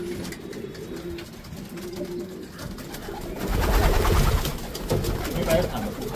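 Inside a loft in Uruli Kanchan, kapus racer pigeons keep up soft, throaty cooing, steady at first and then swelling louder midway as nearby birds join in, while people's voices murmur faintly in the background.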